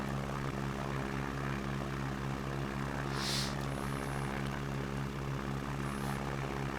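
A Piper Cub light airplane in flight, its small propeller engine droning steadily and evenly from close by throughout, with no talking.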